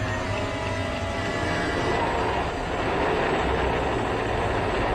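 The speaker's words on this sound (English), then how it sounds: "Zündung. Beistehen. Motor starten." A rocket engine starting after the ignition command, a loud, dense, continuous roar that holds steady for the whole stretch with no break.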